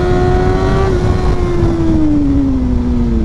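A Kawasaki ZX-6R sport motorcycle engine holds a loud, close, high-pitched rev under throttle, its tone sliding slowly downward over a few seconds with a rough low rumble beneath.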